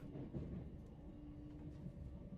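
A train rolls along in a video game as a faint, steady low rumble with a soft rhythmic clatter, quiet and continuous with no voices.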